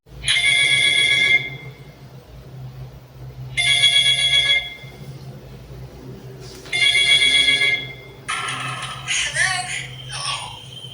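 A telephone rings in a scene from the horror film Scream: three bright, loud electronic ring bursts spaced a few seconds apart, followed by a brief warbling, chirpy sound over a low steady background hum.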